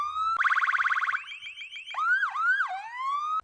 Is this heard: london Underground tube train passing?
no